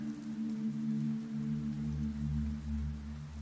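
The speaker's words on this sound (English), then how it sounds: "And you hear the rain" Soft, steady rain falls with a low, even hiss and patter, continuous and calm throughout with no voices present.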